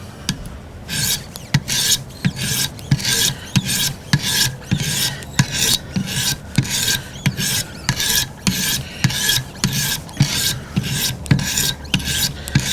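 Knife blade sharpened on a Wicked Edge WE130 guided sharpener with a 600 grit stone: rhythmic rasping strokes, about two per second, loud and close, with no voices.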